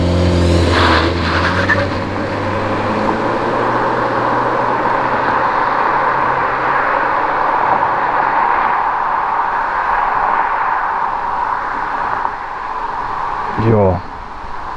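An Audi A5 Sportback 1.8 TFSI engine drones steadily as it drives, with a muted, mild note from the stock exhaust and road noise. Near the end the revs briefly climb.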